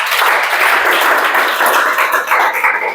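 A room full of students claps together for about three seconds, a dense, loud patter of hands with no talk over it.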